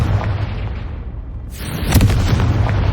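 A Confringo fire spell explodes in Hogwarts Legacy, a low rumbling burst that swells back in with a sharp crackling blast partway through, loud and close.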